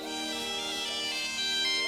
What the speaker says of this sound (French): C'est le téléphone de mon père.